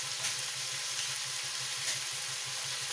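An ivy gourd stir-fry with turmeric and salt sizzles in a pan as it is stirred, a soft continuous frying hiss with faint periodic stirring sounds.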